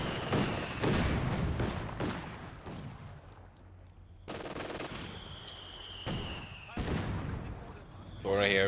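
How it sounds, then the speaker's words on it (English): Mortar shells landing on sandbag positions in Company of Heroes 2, heard as repeated heavy thumping impacts mixed with scattered gunfire, with a caster talking over the battle. "Mortar of course also barraging the sandbags."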